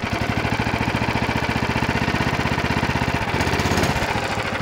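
A Snowdog motorized sled engine runs loudly and close, a rapid, rough pulsing drone that holds steady, then shifts pitch briefly as the throttle is worked.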